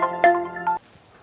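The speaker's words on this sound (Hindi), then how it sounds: "अरे साहब सिंह का फोन" A short melodic phone ringtone plays loud and close for under a second, a few bright electronic notes, then cuts off into near silence.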